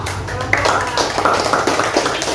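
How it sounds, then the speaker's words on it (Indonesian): Audience hand clapping at an elementary school program event in Ternate, a steady patter of claps under voices and talk for a couple of seconds. "Tepuk tangan untuk"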